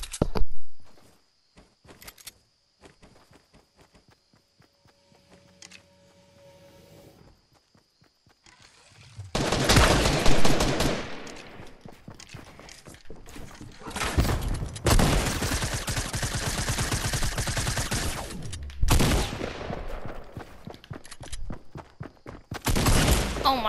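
Gunfire in a shooter video game: a quiet, sparse opening gives way to long, loud stretches of rapid automatic shots, broken by short pauses, with dull thuds and movement sounds between volleys.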